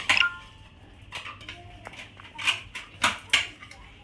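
Plates being handled for serving food at a small home birthday meal: a few close clinks and clatters of dishes and cutlery spread across a few seconds.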